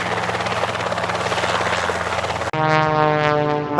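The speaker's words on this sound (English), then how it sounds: "helicopter," A helicopter flies close by, its steady loud rotor chop and engine whine filling the air, then the tone shifts into a harmonic turbine drone.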